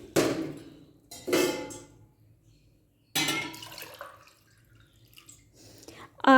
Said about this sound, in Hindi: 2 कप डालेंगे इसमें हम पानी।